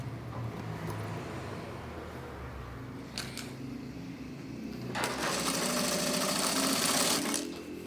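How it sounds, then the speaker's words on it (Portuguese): A sewing machine sews a seam on a kitchen dish towel with backstitching at start and end, low steady motor hum broken by a short burst and then a louder, faster run of stitching nearby. "Eu vou passar uma costura, retrocesso começo, retrocesso final."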